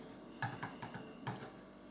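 A metal spoon scoops and scrapes through salt in a few short, close clinks and scratches, with quiet pauses between and no talking.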